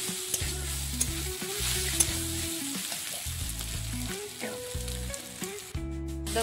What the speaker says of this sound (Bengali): দেব হলুদের গুঁড়ো পরিমাণ মতো, সব ভালোভাবে কষিয়ে নেব